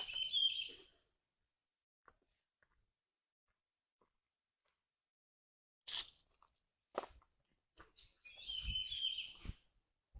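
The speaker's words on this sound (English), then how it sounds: "we have one red-fronted parrot and an orange-fronted parakeet" A red-fronted parrot and an orange-fronted parakeet at an animal rescue center in Costa Rica give sharp, shrill calls in two short bursts, separated by near-silence and a few faint clicks.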